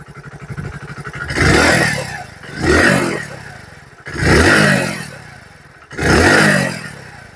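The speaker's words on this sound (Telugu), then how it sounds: "సో ఇది ఈ బైక్ యొక్క ఎగ్జాస్ట్ నోట్" Hero Passion Plus 100cc motorcycle, a 2024 model, running after a self start: a steady near engine chug that swells in four throttle blips of roughly a second each, with a low throbbing exhaust between revs.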